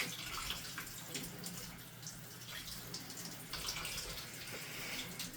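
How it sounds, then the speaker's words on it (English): Warm water runs steadily into a bowl for several seconds, a continuous splashing pour with a soft hiss, fairly close and moderately quiet. "So I'm going to put in 2 cups of warm water"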